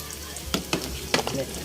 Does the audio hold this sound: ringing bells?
no